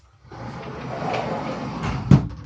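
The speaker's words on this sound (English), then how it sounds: "this is a sliding door, and I'll shut it and then I'll step back" A sliding door in the aft cabin of a 1964 Chris Craft Constellation 57-foot motor yacht rolls along its track for about two seconds and ends in a single close, sharp thud.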